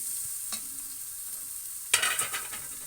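Onions frying in oil in a home kitchen pan for aloo gajar ka salan: a steady low sizzle, with a louder burst of crackling and stirring near the end.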